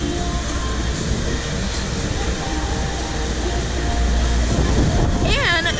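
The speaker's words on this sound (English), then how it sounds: "Okay, now we're at the Flowrider" Water roars in a constant, loud, dense rush at the FlowRider surf simulator aboard the cruise ship Harmony of the Seas, an unbroken wave-machine wash with a brief squeal near the end.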